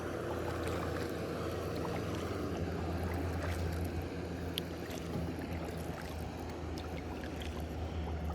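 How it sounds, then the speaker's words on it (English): A fishing boat on Bartlett Lake runs head-on into waves, giving a steady, loud wash of water and hull slapping with engine rumble underneath, continuous throughout with no talk. "Hitting the waves head on."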